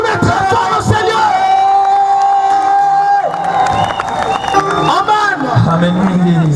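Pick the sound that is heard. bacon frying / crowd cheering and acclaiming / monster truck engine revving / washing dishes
crowd cheering and acclaiming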